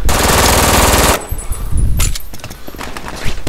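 Rapid automatic gunfire from the video game Brink rattles loud and close in a dense burst for about a second. Scattered single shots and impacts follow, with a faint voice under them.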